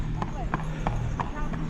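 Horse hooves clip-clopping on a road in the Lincolnshire Wolds, with steady, evenly spaced hoof strikes at close range.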